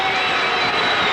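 Balmain crowd at a rugby league match applauding, a dense steady wash of clapping and cheering from a large stadium audience.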